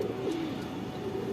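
Racing pigeons of a Bangladeshi loft line coo steadily in a low, continuous rumble, close and moderately loud with no talking.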